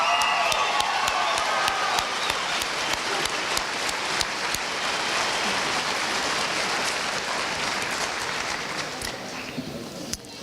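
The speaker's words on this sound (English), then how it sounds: "I think we have one more round of applause for our student speakers." Graduation ceremony audience delivers a long round of applause for student speakers, a dense, steady hiss of many hands clapping continuously for about ten seconds, with a few sharper claps standing out and faint voices in the crowd.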